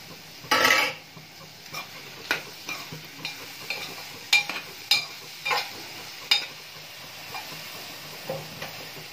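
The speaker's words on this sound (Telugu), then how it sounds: "ఇప్పుడు మనం తీసి పెట్టుకున్న జీడిపప్పు వేసుకోవాలి." A spoon stirs cashews into a tomato and drumstick curry in a pan, giving a brief rattle as the nuts tip in, then scattered scrapes and taps against the pan over a faint background, with no speech.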